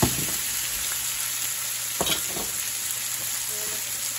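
Tomato hits a hot pan of shrimp scampi for linguine and fries with a steady, close sizzle, broken by a few sharper spatters and stirring sounds, with no talking.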